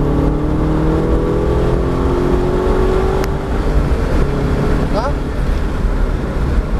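A Chevrolet Camaro engine accelerating on the Lohéac race track: a steady, droning engine tone with rising and falling pitch, close and loud, and a voice briefly speaks.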